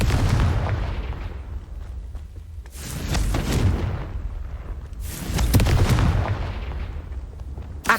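Confringo blasting spell in the video game Hogwarts Legacy, booming explosions going off in repeated bursts about every two to three seconds, each a heavy blast with a rumbling tail, loud and close with no talk.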